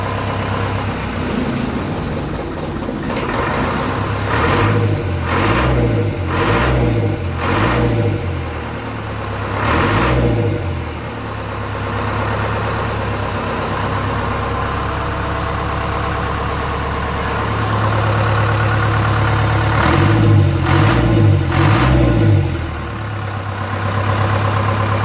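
A Land Rover Series 3 with a 2 1/4 litre diesel engine idles after its first start, a loud, steady clattering rumble broken by several short rhythmic revs near the start and again toward the end.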